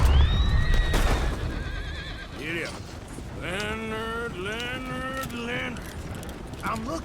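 Horse neighs and whinnies in Red Dead Redemption 2, rising calls repeated several times over the clip, with hoof clatter and game ambience beneath; a voice speaks briefly.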